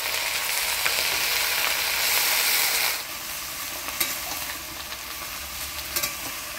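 Taro stems cooking with salt and a little water in a pan, a dense hissing sizzle throughout with light scraping and tapping of a utensil as they are turned, louder at first then steadier, no speech.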